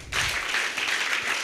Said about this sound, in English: A better clap for him.